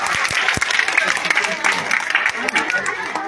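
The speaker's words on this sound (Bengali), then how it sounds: "জোরে হাততালি দাও।" An audience of students and guests applauds at a junior high school annual prize-giving ceremony, with continuous crowd clapping under loud talk from a presenter over a microphone.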